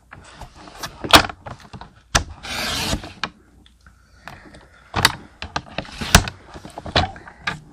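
A paper trimmer slices a quarter-inch strip of cardstock for a St Patrick's Day card, giving several short, close rasping and clicking strokes of the blade with quiet pauses between them.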